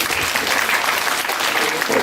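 A lecture audience in a university hall claps together, dense and loud sustained applause filling the room without a break.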